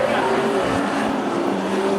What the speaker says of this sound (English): Big death rattles for car 50 and smoke out of the rear.